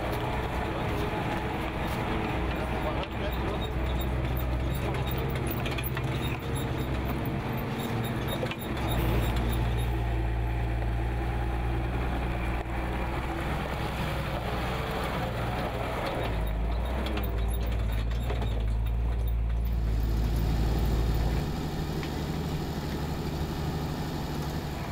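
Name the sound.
truck driving up a stony mountain track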